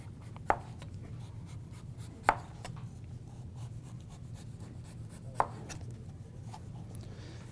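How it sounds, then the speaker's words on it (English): A knife cuts through a root vegetable on a board with three sharp, separate chops spaced a few seconds apart, set against a steady low room hum and no voices. "cut it in half again, cut the top off, and then you can actually, relatively easy, peel it with a knife."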